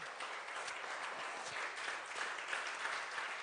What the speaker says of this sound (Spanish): Denle un aplauso al Rey, por favor.